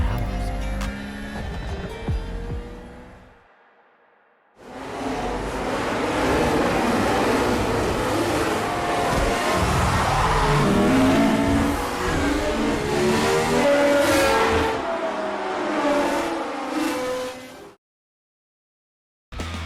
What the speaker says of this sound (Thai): แถมด้วยเสียงเครื่องยนต์สุดกระหึ่ม